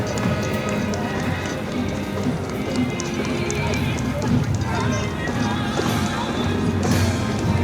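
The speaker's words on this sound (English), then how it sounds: "a beautiful horse-drawn white carriage." A white horse-drawn carriage passes during a Memorial Day parade in Clark Township, with a horse whinnying and steady clip-clop of hooves amid continuous crowd and street noise and people talking.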